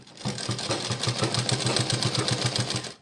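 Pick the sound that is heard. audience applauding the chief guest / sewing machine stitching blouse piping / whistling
sewing machine stitching blouse piping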